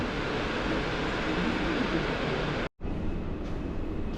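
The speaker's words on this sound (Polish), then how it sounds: "Pociąg zmierza do stacji Wrocław Główny." Train moving at Kraków Główny station, a steady broadband rumble that cuts out abruptly for a moment before resuming.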